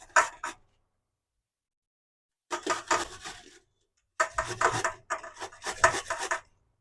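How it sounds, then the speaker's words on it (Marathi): Cucumber rubbed against a hand grater for Kakdiche Vade, heard as close, rhythmic rasping strokes in three bursts separated by silent pauses. "काकडीचं किसून टाकते इथे"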